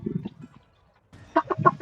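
Short bursts of clucking from a chicken in a Filipino multiplayer video game, a quick cluster at the start, a brief pause, then a louder run of several clucks close up and alone.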